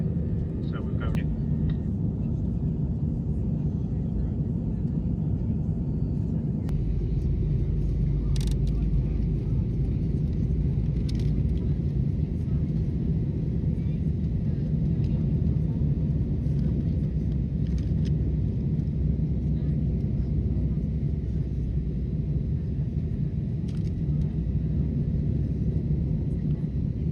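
Steady, loud low rumble inside an airliner cabin during a go-around on a windy approach to Manchester, continuous and unchanging with faint scattered clicks on top.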